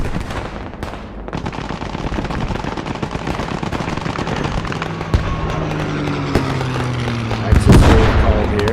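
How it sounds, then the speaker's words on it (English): In the World War II shooter Squad 44, a dive bomb strikes a Panzer IV tank on the Driel map with a heavy, booming blast near the end, following a dense stretch of steady gunfire and scattered explosions. "Gets the Panzer IV with the dive bomb."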